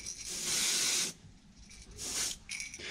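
An aerosol can spraying paint onto a creek chub fishing lure, two near bursts of hiss separated by a short pause, with a third shorter burst at the end.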